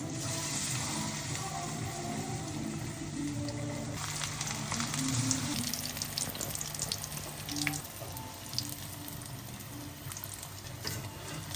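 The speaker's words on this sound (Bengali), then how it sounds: "বেসনে ভিজে নিলাম, এখন তেলে দেব।" Gram-flour battered bitter gourd and cauliflower chops fry in hot oil, giving a steady, dense sizzling hiss with small crackles that runs without a break from start to end, close by and with no talking.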